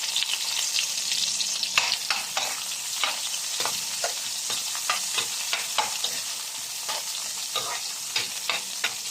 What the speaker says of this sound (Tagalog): Lagyan na natin yung bawang. Sunod na natin yung sibuyas.